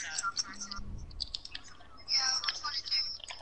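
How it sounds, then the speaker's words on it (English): Quick, light keyboard typing while entering a chat message during online gameplay: a steady run of soft clicking keystrokes, close and fairly quiet, over faint background sound and a brief low thud. "let me type in chat"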